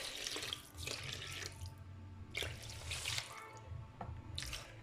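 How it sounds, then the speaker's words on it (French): Tap water runs into a cooking pot for couscous, a splashing flow that surges and eases in several bursts with drips between, fairly close and with no speech. "je vais mettre de l'eau"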